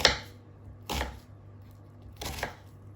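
A knife slices through an onion held together at the root on a chopping board for lentil soup, giving three separate crisp cuts spaced about a second apart, close and fairly quiet.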